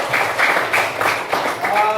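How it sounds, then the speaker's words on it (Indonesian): Classroom applause from a group of students after a drama performance, a modest burst of claps with a voice speaking over it. "Tepuk tangan buat kalian semuanya."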